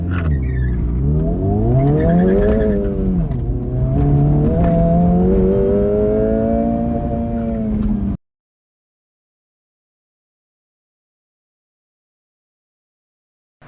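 An Acura Integra Type S revs hard and accelerates loudly with traction control reduced for about eight seconds, pitch climbing and dipping through gear changes, then abrupt silence.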